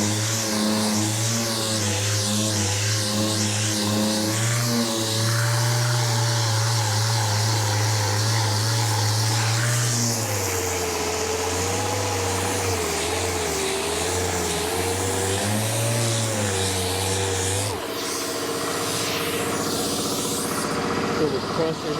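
In a workshop where a Camaro is being welded, ground and painted, an air compressor drones loudly and continuously up close. Its steady engine-like hum wavers slightly in pitch while people talk over it.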